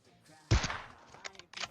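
Sniper rifle gunshot in PUBG Mobile at a military base: one loud, sharp report with a short decaying tail, followed by fainter clicks and a brief burst of noise later.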